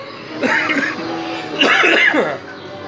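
A man coughs twice, two short rough bursts about a second apart, close and fairly loud, with a brief throaty quality like throat clearing.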